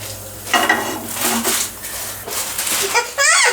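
Spices such as cinnamon and bay leaf drop into hot oil in a pan for biryani, making bursts of sizzling and stirring scrapes, with people talking over the cooking.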